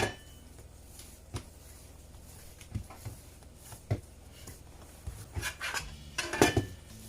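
An oiled scraper works through Jamaican coco bread dough, making scattered soft scrapes and sharp little clicks and clinks against the bowl, close and fairly quiet, growing busier toward the end.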